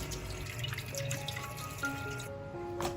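Tap water runs steadily over half a bighead carp fish head being rinsed clean in a kitchen sink for a Cantonese braised pork belly and fish head dish, a continuous close splashing trickle with occasional drips.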